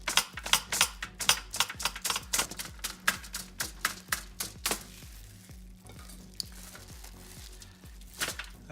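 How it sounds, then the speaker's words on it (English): A plain fork pokes holes into raw pork skin for air-fryer roast pork, giving a quick run of sharp, close tapping clicks in a steady rhythm that thins out and slows toward the end, with no voices. "So it's easy to poke holes. If you don't have anything special to do that, you can just use a plain old fork."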